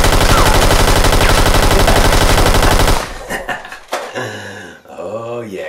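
Modded Nerf blasters firing in a rapid, steady machine-gun-like burst for about three seconds, loud and close, followed by scattered clatter and a chuckle.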